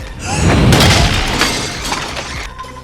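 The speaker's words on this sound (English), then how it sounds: "He snatched her stapler and smashed it to pieces." A stapler smashed to pieces in an office, heard as a loud, close crash with shattering debris that swells over the first second, then scatters and fades into a softer rattle of breaking fragments.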